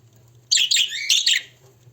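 Show budgerigars in an aviary give a short burst of bright, overlapping chirps and tweets, close and clear over a low background hum.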